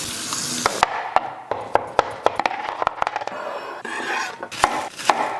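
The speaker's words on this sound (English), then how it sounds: "One when I'm chopping onions" Onions and mushrooms are chopped with a knife on a cutting board, a close series of sharp, irregular knocks, several in quick succession, over a faint background hiss.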